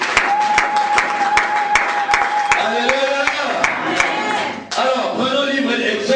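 A church congregation breaks into steady applause and cheering, with sustained clapping, sharp rhythmic claps and shouting voices that swell and then ease near the end.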